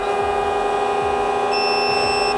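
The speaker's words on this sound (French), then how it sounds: "vous l'allumez et vous allez entendre un bip" A steady high electronic tone from a carp-fishing bait boat remote sounds continuously, with a second thin beep appearing partway through over a faint low murmur.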